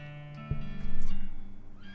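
A horse in the video game West of Loathing lets out a single wavering, warbly whinny that swells and fades over steady background game music.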